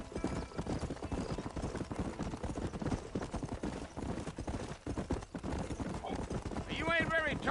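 Horse hooves clip-clopping in the Western video game Red Dead Redemption, a steady rhythmic trot running throughout under continuous dialogue and game sounds, with a brief whinny near the end.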